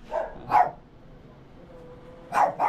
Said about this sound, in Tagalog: Aso lang yun